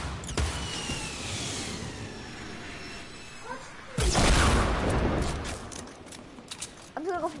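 Video game gunfire: a few sharp shots and bursts spread across several seconds, moderately loud, with game effects and a player's talk mixed in.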